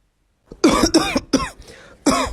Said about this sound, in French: arrête de tousser de partout frère